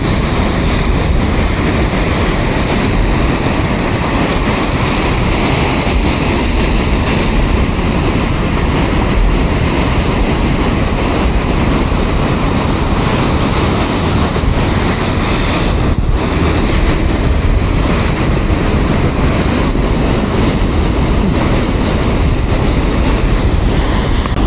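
Surf rolling onto the beach at Newquay, England, during a 1983 professional surf competition with small waves, steady wind buffeting the microphone, continuous washing roar of breaking water with no voices.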